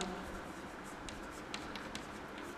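Chalk or marker scratching on a board during a chemistry lecture on bond dissociation energy, a steady faint scraping with a few sharper strokes, quiet and continuous in a room with no talk.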